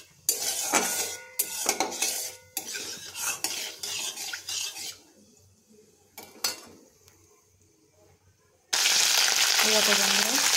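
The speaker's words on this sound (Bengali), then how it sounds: "দিয়ে দিয়েছি কারি পাতা, একটু নাড়িয়ে নেব" Curry leaves sizzling and being stirred in hot mustard oil with black mustard seeds and dried chillies in a wok, with bursts of crackling frying and scraping stirs, then a loud steady sizzle at the end.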